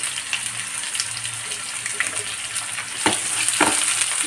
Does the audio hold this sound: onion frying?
yes